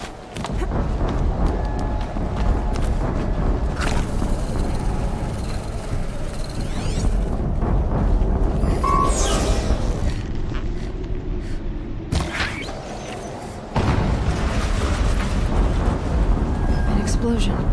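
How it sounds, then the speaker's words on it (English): Explosion in the video game Horizon Zero Dawn, a loud deep boom amid heavy rumbling game action, with a brief sharp burst near the middle and sustained low roar throughout. "An explosion."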